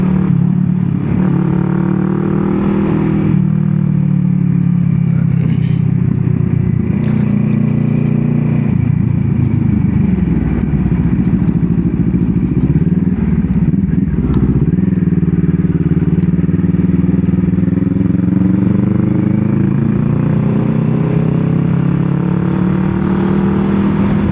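A large motorcycle engine runs close by, a steady loud low rumble with shifting revs and occasional clattering, continuing throughout with no talk.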